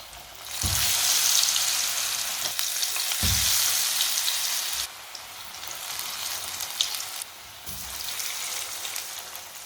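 Phool chips fry in hot oil, a steady loud sizzle punctuated by a few sharp bursts as pieces drop in, with a brief dip before the crackling resumes.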